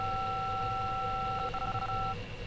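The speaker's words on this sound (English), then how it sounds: "So here we just press the button from 5554 AVD, and this is the dial pad." Dial pad key tones from an Android emulator phone (AVD), a sustained dual-tone beep held for about two seconds with a brief faint click near its end, clear and alone.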